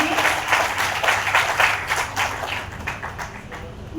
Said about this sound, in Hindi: पुनः तालियों से